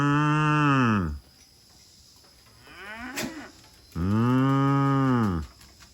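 Cows mooing on a farm: two long, loud, drawn-out moos from close by separated by a quiet gap, with faint insect chirping in the background.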